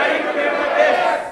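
A large audience at a talk on emotional management shouts together at full volume, producing a loud, sustained roar of many voices in a hall.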